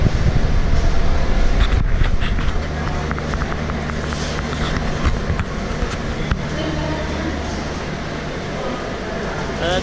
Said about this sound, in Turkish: Görmüş olduğunuz trenle az sonra başkent Yeni Delhi'den Agra'ya gideceğim.